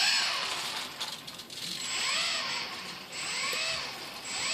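A tiny servo on an E-flite P-51D UMX RC plane whirs in short repeated sweeps as it drives the elevator, a faint mechanical buzz heard up close with no talk.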